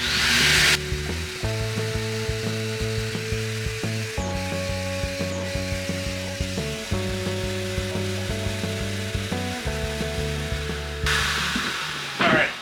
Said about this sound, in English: as soon as you turn on the sander, it's going to start the vacuum and it's going to start running